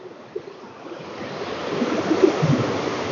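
River water rushes steadily beneath an old British-built bridge on a Kerala estate, a continuous close hiss of flowing water that swells slightly toward the end, with no talking.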